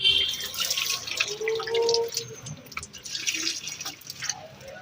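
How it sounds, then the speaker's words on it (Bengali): Water is poured onto the dry soil of a potted tulsi plant, trickling and splashing close by in an uneven, continuous flow. "চলো গিয়ে তুলসী গাছটা জল দিয়ে আসি।"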